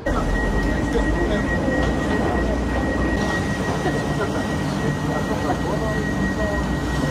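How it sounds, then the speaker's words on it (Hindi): Airport shuttle train at a German terminal, a steady rumbling rail and motor drone with a sustained whine under it, heard from the platform at moderate loudness. "अभी आएगी ट्रेन ट्रेन से हम जाएंगे गेट जी पे"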